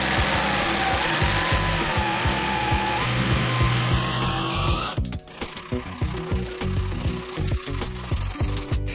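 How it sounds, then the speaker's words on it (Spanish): A jigsaw cuts a curve through wood, giving a loud, steady buzzing rattle that runs continuously, then shifts into a choppier, uneven rhythm partway through as the blade works the cut. "El primero lo vamos a hacer con caladora."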